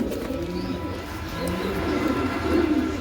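English Trumpeter pigeons, a male and female pair, coo softly and repeatedly, with low rolling calls over a quiet background.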